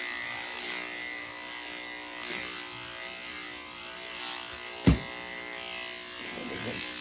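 Electric clippers hum steadily while shaving a Doodle dog's coat during grooming, a continuous close buzz with a brief sharp knock near the middle and faint low voice in the background.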